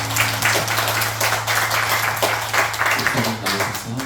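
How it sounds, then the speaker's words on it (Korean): A church congregation at a Sunday afternoon worship service at Palbong Church claps in praise, a brisk patter of many hands over a sustained low instrumental drone that continues underneath. "우리 주님께 영광의 박수 올려드리겠습니다"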